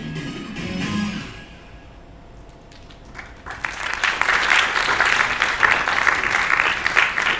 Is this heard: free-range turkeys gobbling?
no